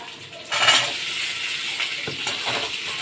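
Potatoes drop into a pan of hot oil, a sudden louder burst of sizzling that settles into steady frying with a few utensil scrapes and clinks, nearby and without speech.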